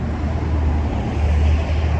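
Cars driving by on a city street, a continuous low rumble of traffic and road noise with some wind, steady and fairly loud, no voices.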